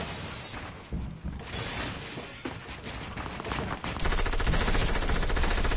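Gunfire in Fortnite, including hunting-rifle shots: a string of sharp, loud reports and rattling bursts with glassy shattering, ending in rapid continuous fire.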